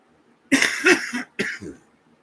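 A person coughs twice, a harsh multi-part cough followed by a shorter one, close and loud in a quiet room.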